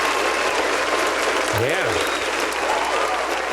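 Crowd applause for the Rainbow Six game series fills the room steadily and loudly, with a brief sweeping electronic sound effect in the middle and a voice speaking over it.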